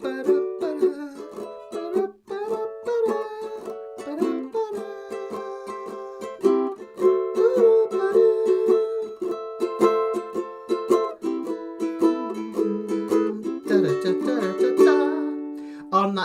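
Ukulele plays a song at full tempo, with a bright plucked melody over chords and quick triplet runs, sounding close and continuous with no talking.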